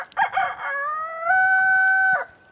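A rooster in a backyard Whiting True Blue chicken flock crows one long, clear cock-a-doodle-doo close by, preceded by a few short clucks, with no talk over it.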